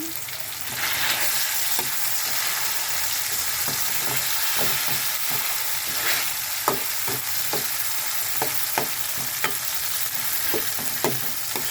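Mung beans and smoked fish cook in a pan with a steady sizzle, broken by repeated sharp clicks and scrapes of a utensil stirring, close and clear with no talking.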